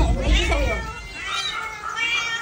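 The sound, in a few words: cat meowing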